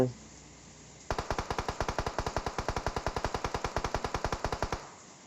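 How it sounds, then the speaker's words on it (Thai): Automatic gunfire in a video game rattles in a long rapid burst of evenly spaced loud shots lasting several seconds, with a voice heard briefly at the start. "เอายิงมั่วแล้วผมยิงโดนด้วยฮะ"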